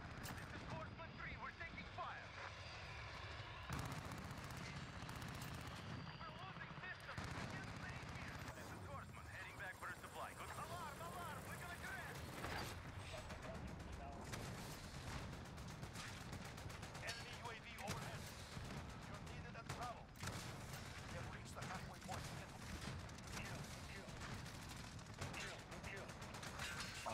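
Dense gunfire in a first-person shooter on the Nuke map, with heavy bursts of automatic fire and shots echoing throughout, layered with constant battle noise while voices talk over the action.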